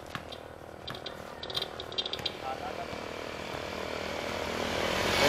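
A steady mechanical whir of a small drone rises gradually in loudness as it flies closer, with brief clicks and a voice early on.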